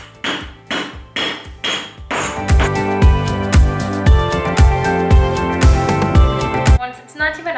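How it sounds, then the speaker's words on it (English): Rolling pin pounding a slab of butter, a steady run of close, heavy thuds at a regular beat, played over loud background music. "now with a rolling pin, pound butter until it's 19 by 19"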